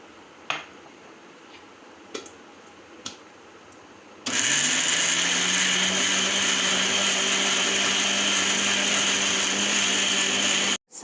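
Kitchen blender grinding garlic with oil into a paste for ginger garlic paste: a few light clicks and taps, then a loud, steady high-pitched motor whir that runs continuously for several seconds close by before cutting off abruptly.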